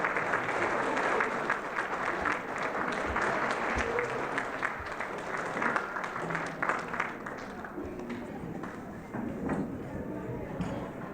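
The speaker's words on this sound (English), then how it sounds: "let's give each other a round of applause, if you would. Look around and clap your hands." Sustained applause from a large crowd of First Nations conference attendees standing in a hall, dense steady clapping filling the room for the whole stretch, with scattered voices mixed in.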